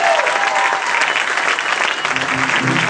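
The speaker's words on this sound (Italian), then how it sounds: "Fate un applauso a questo ragazzo!" Loud, sustained audience applause fills the whole stretch, dense clapping from a crowd at a live show, with a few faint voices mixed in toward the end.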